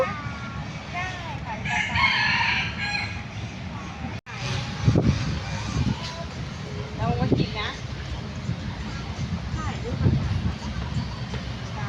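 Rooster crowing at a zoo in an open-prison setting, a clear crow rising early and fainter calls following, with people chatting nearby and steady outdoor background noise throughout.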